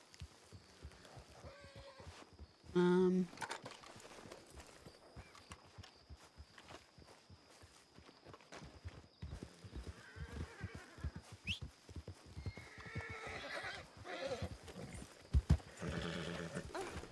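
A lone horse in a Wild West roleplay video game walks with steady clip-clopping hooves throughout, punctuated by a loud whinny early on, with game ambience underneath and no talk.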